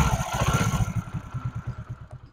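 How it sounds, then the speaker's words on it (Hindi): A repaired motorcycle engine idles smoothly and steadily nearby after an engine noise problem was fixed, with a regular low pulsing rhythm and no voices. "हमारा साउंड बिल्कुल स्मूथ हो चुका है इंजन का"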